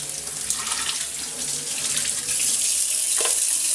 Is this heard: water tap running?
yes